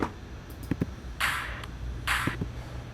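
A second drop-clap sample for an electronic dance remix fires twice, roughly a second apart, as wide splashy hits with short tails, preceded by a few quick dry ticks and faint low drum knocks.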